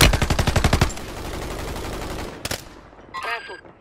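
Rapid automatic gunfire bursts from Call of Duty on Rebirth Island ring out loud and close at the start, with a sharp follow-up shot and faint game sounds later.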